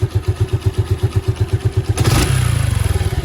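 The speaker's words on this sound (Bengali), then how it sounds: "ইঞ্জিনের সাউন্ডটা শোনাই দিই নতুন গাড়ির" A Suzuki Gixxer Monotone motorcycle engine idles with a steady, loud thumping pulse, then a quick rev raises the pitch and the beat speeds up.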